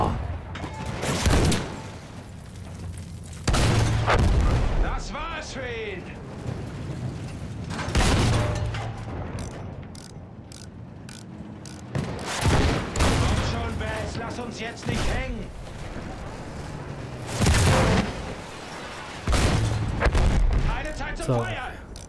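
Gunfire and explosive booms from the World War I shooter Battlefield 1 erupt in repeated heavy bursts every few seconds, loud and dense, with someone talking in German over the action.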